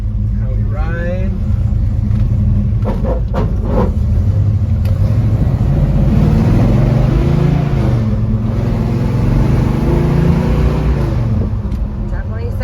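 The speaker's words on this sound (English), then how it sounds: "Down the street, got a 4-speed. See how we shift," A 1966 Chevrolet Chevelle with a 4-speed manual gearbox drives down a street, its engine rumbling and revving through gear changes, with someone talking over it throughout.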